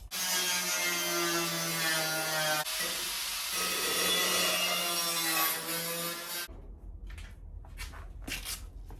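A power cutter grinds loudly through sheet metal while a patch piece is made for a car trunk gutter, a harsh whining cut that briefly stops and restarts, then gives way to quieter scraping and tapping.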